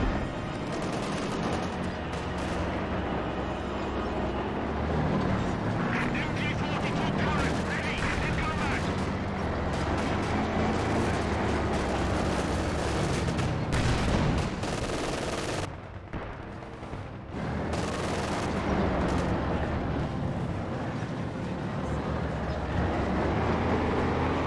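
Battle gunfire in Company of Heroes 2, dense overlapping rifle and machine-gun bursts with heavier booms, continuous and loud for most of the stretch, briefly dipping before resuming, with a commentator talking over it.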